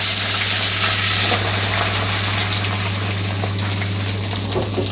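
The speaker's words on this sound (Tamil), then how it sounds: "வெங்காயம் சேர்த்தாச்சு. இப்போ இதை நல்லா நம்ம வதக்கிக்கலாம்." Chopped onions sizzling in hot oil with curry leaves in a pan while making green gram sundal, a steady loud frying hiss with a low constant hum beneath and occasional stirring scrapes.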